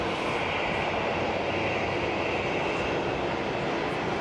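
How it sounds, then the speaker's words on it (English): Steady broadband roar of a Sky Up Airlines airliner near Cologne Bonn Airport, continuous and fairly loud throughout with no voices. "Sky Up Airlines is the plane I can hear."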